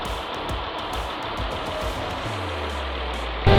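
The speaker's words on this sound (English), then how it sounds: "Good news is the vehicle started and is running smoothly" A Jeep Grand Cherokee engine idles steadily after its first start, with a constant hum throughout and a lower tone settling in near the end, followed by a brief louder burst.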